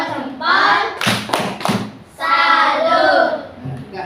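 A group claps a salute in a classroom, several rhythmic bursts of sharp hand claps with thuddy taps, separated by stretches of children's voices talking.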